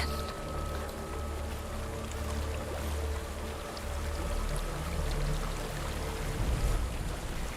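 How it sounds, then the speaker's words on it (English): A waterfall in a video game gives off a continuous rushing roar of falling water with a low rumble underneath, steady and unbroken from start to finish. "There's a waterfall."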